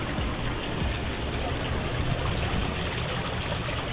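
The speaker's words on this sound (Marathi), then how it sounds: "स्वच्छ नितळ अशी पाण्याची धार यावरून एक सारखी कोसळत आहे" A clear stream of water pours steadily from a stone gomukh spout beneath a Mahadev temple at Sagargad fort, making a continuous, even rush that fills the scene at close range.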